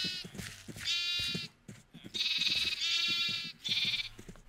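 Video game sheep bleating when struck, several loud wavering bleats in a quick series with short gaps between them, close and clear with no talk over them.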